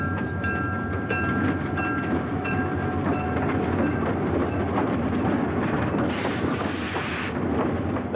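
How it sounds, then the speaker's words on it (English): The Amtrak passenger train James Whitcomb Riley rumbles along the rails, a continuous heavy roll with rhythmic clicks from wheels over joints, loud and close throughout, with a brief hiss of brakes or air near the end. "They call this train the James Whitcomb Riley, named after the famed Hoosier poet, and it's been making this run for about 30 years."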